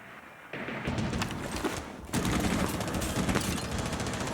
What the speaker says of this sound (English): ignore the gunfire